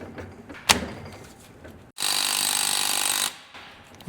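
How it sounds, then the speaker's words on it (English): Air impact tool hammering during work with a bearing puller on a Jeep Grand Cherokee WJ Dana 44 axle, a sharp knock followed by a loud, steady rattling burst of about a second and a half, close up, with no talking. "We just flatten those out so we can get our bearing puller on there."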